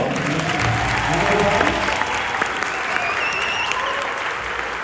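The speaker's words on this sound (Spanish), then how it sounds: "Un aplauso, por favor." Audience applause at a concert, a dense, loud wash of clapping from a crowd, sustained and even throughout with little variation.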